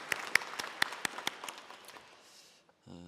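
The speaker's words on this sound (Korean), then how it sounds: "감사의 박수 보내줬으면 좋겠습니다." Brief scattered clapping from a church congregation during a Sunday service, a few sharp separate claps fading out within about two seconds, fairly quiet and close, ending in near silence.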